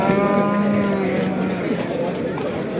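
One cow gives a long, loud moo close by at a busy livestock bazaar in Kattaqo'rg'on, over a dense crowd murmur.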